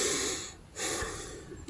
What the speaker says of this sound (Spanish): puedo respirar voluntariamente